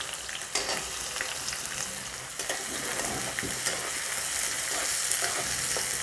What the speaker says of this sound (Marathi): कांदा लसूण चांगला फ्राय करून घेऊ